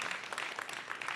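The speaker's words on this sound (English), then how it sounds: "round of applause." Audience applause at a climate week livestream event, a steady dense wash of clapping from a crowd that carries evenly through the moment without any voices.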